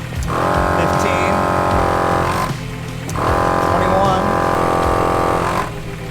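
Portable air compressor inflating a car tire, its motor running in two long steady bursts with a brief pause between, loud and close, with no talk over it.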